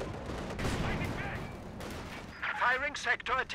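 Artillery fire in Company of Heroes 2 gameplay, a dense rumbling barrage of distant blasts followed by sharper whistling and crackling impacts near the end, under a voice.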